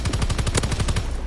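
Rapid bursts of automatic gunfire from a first-person shooter played on PS4, a steady run of loud, closely spaced shots lasting just over a second with no talking over it.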